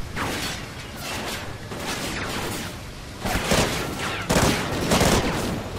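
Dense, loud volleys of gunfire from the military shooter Call of Duty: Ghosts, with sharp shots and heavy bursts stacking into near-continuous combat noise and no talking.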